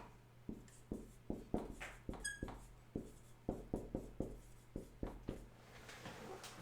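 Pen or marker writing on a board during an English lesson, a run of short, close scratching strokes and taps in irregular rhythm, no talking.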